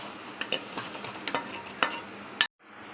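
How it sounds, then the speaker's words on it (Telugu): Bread pieces frying in a pan for bread kheer, a soft sizzle broken by several sharp clinks and scrapes of a utensil against the pan, then a sudden brief quiet. "ఇలా అన్నీ బాగా మనం ఫ్రై చేసుకొని ఒక ప్లేట్లో వేసేసుకుందాం"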